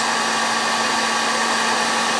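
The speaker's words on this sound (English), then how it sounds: "I'm actually going to keep the hair dryer right going on the stress ball." A hair dryer blows hot air onto a Jamberry nail wrap held on a stress ball, a close, loud, unbroken whooshing hum with a steady motor whine and no talk.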